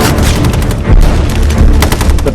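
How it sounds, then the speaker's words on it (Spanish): Bren machine gun fire in a war documentary battle scene, loud rapid bursts of automatic gunfire with heavy booms, dense and close across the short clip. "Kane lucha con el apoyo de ametralladoras Bren"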